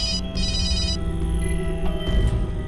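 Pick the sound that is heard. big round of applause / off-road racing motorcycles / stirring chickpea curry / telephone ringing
telephone ringing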